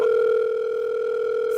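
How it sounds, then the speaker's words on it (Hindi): A phone sounding a steady electronic two-tone ring, loud and close, holding continuously with no talk over it. "सर आपका फोन आ रहा है।"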